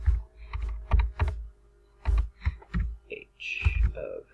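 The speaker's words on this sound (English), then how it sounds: "We're going to go ahead and type these into Desmos." Fingers type on a computer keyboard, entering equations into a graphing calculator: bursts of loud, close keystrokes in an uneven rhythm, with a few brief pauses and some clicking.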